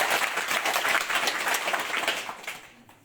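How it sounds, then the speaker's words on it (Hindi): A crowd applauds three leaders at a village election campaign gathering, a burst of clapping that swells and then fades out over a few seconds, with no talk. "एक जोरदार ताली तीनों नेताओं के लिए।"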